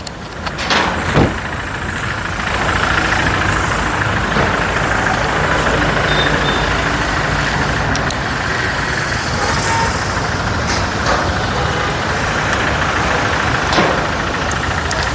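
A car that has stood unused for days idles nearby, a steady loud rumbling engine drone with slight knocking texture, continuous and without talk.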